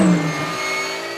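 Race cars roar at the start of a race at the Dijon-Prenois circuit. Loud engines drone together, one strong tone fading slightly as the pack moves off.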